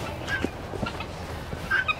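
Chickens clucking outdoors in a sheltered spot out of the wind, soft scattered clucks and calls over a steady background, a couple of brighter calls near the end.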